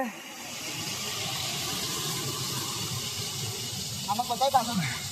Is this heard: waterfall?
yes